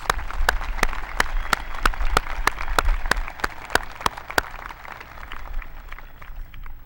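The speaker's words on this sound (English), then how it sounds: "let's give him a round of applause" A high school graduation audience gives a round of applause, with loud, sharp, fairly regular claps standing out over a softer crowd patter that thins toward the end.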